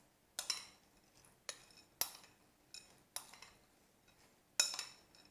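A utensil tossing chocolate chips in flour inside a bowl gives a handful of separate, bright clinks against the bowl's side, spaced about a second apart, each dying away quickly into near silence.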